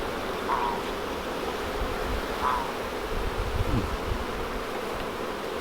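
Honey bees buzzing around an opened hive during a hive split, a steady low hum from many insects, close and continuous, with a few brief louder passes.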